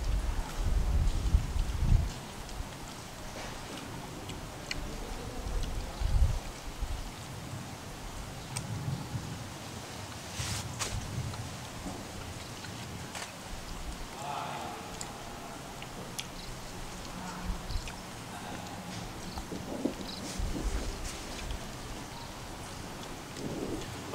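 Steady rain falls outdoors during home cooking of sweet-sour pineapple sambal, a continuous hiss with a few low thunder rumbles early on, moderately faint and without speech.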